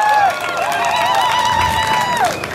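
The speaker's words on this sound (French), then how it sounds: "Je vous demande d'applaudir très fort la jeunesse du lycée de Montpellier" Protest march crowd cheering and clapping outdoors, a dense, steady roar of many voices and applause. Whistles or shouted calls rise over it throughout.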